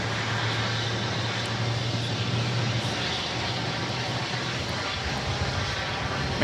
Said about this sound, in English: This is United Airlines 1287 taking off to Newark on the